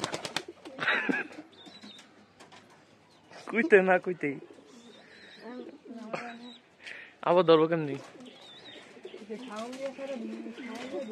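Round-shaped pigeons coo softly in a Bangladeshi village, their low calls rising now and then beneath frequent nearby talk.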